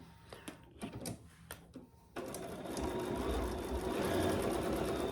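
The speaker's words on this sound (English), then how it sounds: "So we're going to sew that together at the seam allowance in the pattern." A sewing machine stitches two lining pieces of a clutch bag along the seam, starting with a few short taps, then running in a steady, fast mechanical whir up close.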